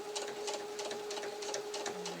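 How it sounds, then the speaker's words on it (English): Sewing machine stitching fabric around a corner while making Easter candy chick decorations, a steady, close, fast run of needle strokes with a sustained motor hum throughout. "Take a little stitch there to get me round the corner."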